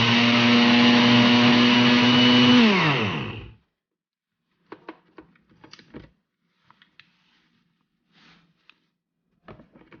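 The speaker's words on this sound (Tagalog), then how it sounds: "Gamitin ko ang aking Ninja blender." A Ninja blender grinding soap roars at full speed for a few seconds, then spins down to a stop, followed by scattered light clatter and knocks.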